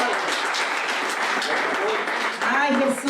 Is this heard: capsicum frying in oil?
no